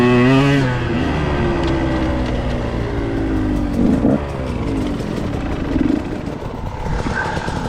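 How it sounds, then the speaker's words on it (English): A KTM 125XC two-stroke dirt bike engine revs and drops continuously while being ridden, loud and close throughout, with rising and falling pitch sweeps as the rider works the throttle. "Oh man, this little bike is so fun to ride."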